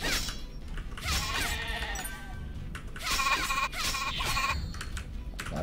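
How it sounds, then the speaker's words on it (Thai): Sheep in the Dragonica online game bleat repeatedly at close range, with keyboard typing clicking underneath. "น้องแกะน้อยก่อนเลย"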